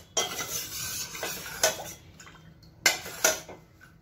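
Raw mango syrup with half a lemon's juice stirred in a glass vessel with a spoon, a few sharp clinks against the sides between softer swirling scrapes, close and fairly quiet.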